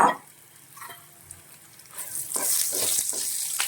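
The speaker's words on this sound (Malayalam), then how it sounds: "നമ്മുടെ എണ്ണ ചൂടായിട്ടുണ്ട് നമുക്ക് മുളക് ആദ്യം തന്നെ ഒന്ന് വറുത്തെടുക്കണം" Dried chillies fry in hot oil in a pan, a soft crackling sizzle that swells and turns steady toward the end, with faint stirring clatter.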